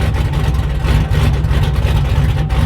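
A truck engine with long tube headers and a gap in the exhaust before the factory muffler roars loud and close, a deep, rough, continuous rumble with a raspy burble and no talk.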